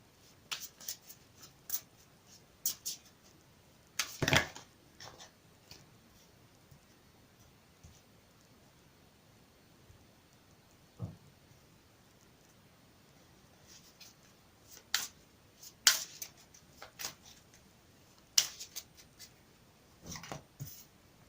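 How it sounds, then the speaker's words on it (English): Deck of Romance Angels oracle cards being shuffled close by in a quiet room, with soft intermittent riffles and sharp snapping card flicks scattered unevenly throughout. "I've already pre-shuffled the deck, but I'll shuffle them for you again on camera"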